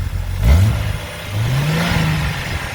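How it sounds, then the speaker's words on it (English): An overland vehicle engine revs up twice, a close, loud rising roar that falls back, then climbs again into a sustained higher whine before settling. "rev it up."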